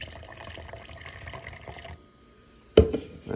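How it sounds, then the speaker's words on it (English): C4 energy drink pours into a glass in a steady liquid stream that stops abruptly, followed by a short splashy clatter near the end. "I may have poured way too much here"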